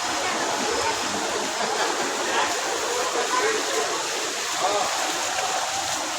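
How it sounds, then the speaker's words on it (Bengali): Floodwater rushes along a street in Mirpur 1, Ansar village, Dhaka, after a sudden ten-minute nor'wester downpour. It makes a steady, dense, close wash of flowing water that holds level throughout. "মাত্র 10 মিনিটের বৃষ্টিতে আমাদের এলাকা কিভাবে পানিতে তলিয়ে গিয়েছে।"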